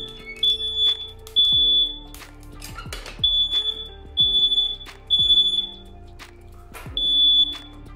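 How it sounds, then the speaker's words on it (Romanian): A household smoke alarm by a home heating stove sounds a series of sharp, high-pitched beeps in regular bursts, loud and close, with knocks and handling noises between them and no talk. "Acolo avem alarma de fum care ne semnalizează sonor."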